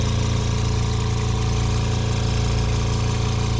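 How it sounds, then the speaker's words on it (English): A compressor in a home-built oxygen system runs with a steady, loud mechanical hum and low vibrating drone, continuous and unchanging throughout. "Then once it kicks off, this other solenoid opens to relieve the back pressure on the high pressure side of the compressor."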